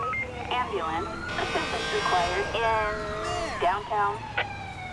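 An ambulance siren in GTA 5, set in a traffic police mod, wails with rising and falling tones that swell loud and nearby, mixed with game noise.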